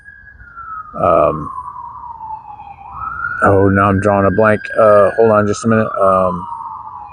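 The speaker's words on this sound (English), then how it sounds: "excuse the sirens" Loud wailing emergency vehicle sirens sweep steadily in the background while someone speaks close by over them.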